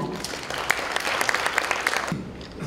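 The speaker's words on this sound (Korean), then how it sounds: "여러분 박수 부탁드립니다" Audience applause rings out at the opening of the first Future Innovation Convergence Forum, a Korean forum event, as the host introduces the chairman. Dense, steady clapping from a crowd fills the room for a few seconds.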